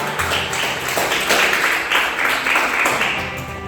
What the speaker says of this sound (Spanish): Dale fuertes palmas a Jesús